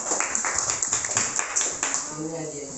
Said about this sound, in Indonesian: Oke, tepuk tangan untuk si Jian.